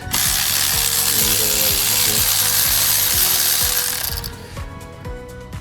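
A ratchet with an extension fitted turns to loosen a spark plug on a 2016 Audi A3 TFSI engine, giving rapid loud clicking strokes in quick repeated bursts. The clicks fade and slow into a few quieter ticks near the end.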